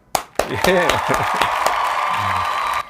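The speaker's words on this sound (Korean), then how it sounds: "박수 한번 칠까요?" A couple of sharp claps ring out, followed by talking and a brief burst of clapping mixed with other sounds.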